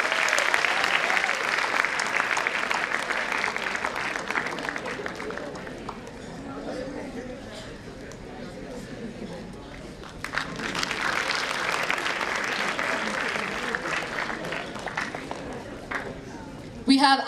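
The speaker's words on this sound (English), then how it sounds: "A louder round of applause." Audience applause at a music event, a steady roar of clapping from a large crowd that dips in the middle and then swells again, with some talking and crowd noise mixed in.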